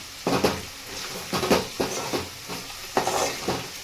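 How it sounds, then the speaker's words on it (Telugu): Chopped tomatoes cook in well-heated oil in a pan over lowered flame, sizzling steadily while a spoon stirs and scrapes in repeated bursts, close and fairly loud. "ఇవన్నీ మనము బాగా వేడెక్కిన నూనెలో మంట తగ్గించి బాగా ఉడికించుకోవాలి"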